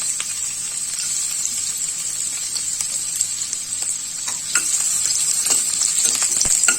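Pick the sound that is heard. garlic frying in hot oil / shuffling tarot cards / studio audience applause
garlic frying in hot oil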